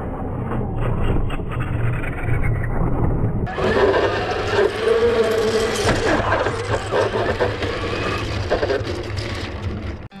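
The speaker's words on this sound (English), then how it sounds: "I put it in manual mode and drove all over the parking lot pretty much as fast as I could go" A Traxxas RC car tears around a parking lot at full speed, its motor whining loud and steady; partway through the sound jumps up sharply and stays high and harsh, with bursts of rushing, gritty noise to the end.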